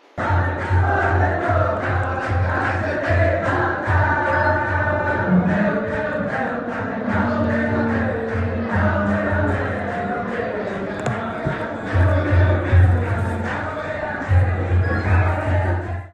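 A crowd at Al-Aqsa mosque sings in unison, loud and close, a sustained chant of many voices with a low hum beneath and occasional brief breaks.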